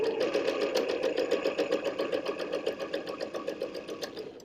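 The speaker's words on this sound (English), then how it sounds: "Spend 10 or 15 minutes just making practice stitches." A sewing machine running practice stitches, its needle clattering in a fast, even rhythm that stays steady and close for several seconds, with no voices.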